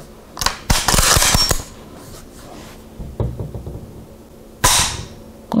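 Bolt of a Finnish Mosin M91 rifle with a smoothed bolt and added trigger spring being worked and dry-fired: sharp metallic clacks and rattles in a quick cluster, then a lone click and another crisp snap, close and clear.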